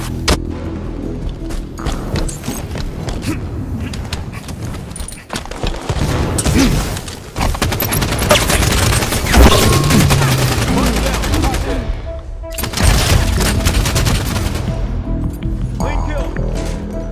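Dense gunfire from the Halo 5 beta video game rattles in bursts and sustained automatic volleys, loud and close, with mechanical clanks and game voice callouts over it.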